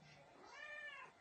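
A black cat gives a single drawn-out meow, rising and then falling, quiet and close, about a second long.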